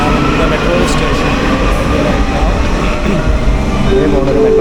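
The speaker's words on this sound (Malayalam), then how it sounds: "പോകുന്നൊരു മെട്രോ" At a metro station in Italy, a metro train passes close by with a loud, continuous rumble and rolling rail noise that fills the platform.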